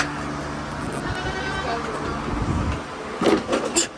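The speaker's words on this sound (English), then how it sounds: "There's so many goats" Goats in a pen bleat in short calls near the end, close by, over a busy low background rumble.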